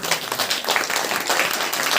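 A church congregation at a Saturday prayer meeting claps continuously, a dense, loud patter of many hands with no pause.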